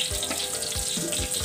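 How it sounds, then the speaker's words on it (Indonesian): Garlic, shallots and lemongrass sautéing in a pan, giving a steady, close hiss of sizzling with soft rhythmic scraping thuds repeating roughly every half second. "Bawang putih, bawang merah, dan serai sedang ditumis oleh istri."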